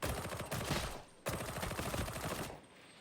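Automatic gunfire from a weapon fired while aiming down sights in a video game, heard as two rapid bursts of close, crackling shots separated by a short gap.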